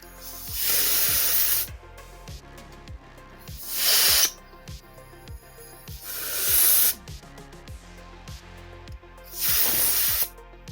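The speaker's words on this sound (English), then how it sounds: "Go ahead and clean it with some compressed air" Compressed air sprays at a Game Boy shell in four long, loud hissing bursts, each roughly a second long, with short clicks and quiet gaps between them.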